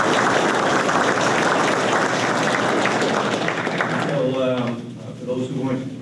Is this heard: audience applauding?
yes